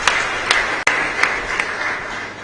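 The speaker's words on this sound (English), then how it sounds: "we shall clap for you again" Mourners at a requiem mass for a late brigadier general applaud briefly, a moderate patter of clapping with a few sharper individual claps standing out.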